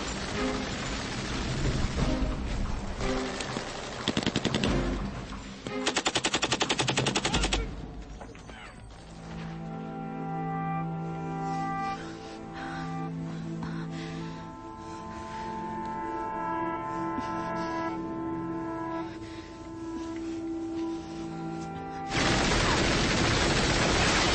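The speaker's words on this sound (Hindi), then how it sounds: "झाड़ियों में फायरिंग करो 300 मीटर नॉर्थ की तरफ" Bursts of dense gunfire raking bushes in a war film scene, loud and sustained at the start, giving way to music, then returning in a heavy final burst.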